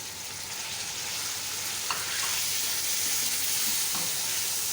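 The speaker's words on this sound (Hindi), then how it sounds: "कीमे को इतना भूनने की कीमे का जो कलर है वो चेंज हो जाए" Half a kilo of minced meat (keema) frying in a pan for a lobia keema dish, a steady broad sizzle with a few faint stirring clicks, close and continuous.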